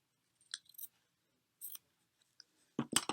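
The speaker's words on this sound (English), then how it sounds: "Just a tiny bit more cut away there." Scissors cut fabric for a collage in a few short, crisp snips and rustles separated by quiet pauses, close and soft, ending in a louder cluster of cuts.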